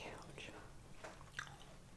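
Someone chewing a toffee cookie close up: soft, wet mouth sounds and bites repeat over a quiet background, with faint breathy vocal noise.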